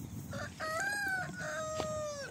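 On an organic farm, a rooster crows once in a close, drawn-out call that rises and then falls, over a dense background of farmyard noise.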